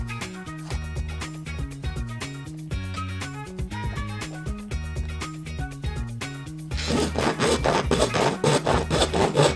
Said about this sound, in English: Now I can cut it and it stops at the line.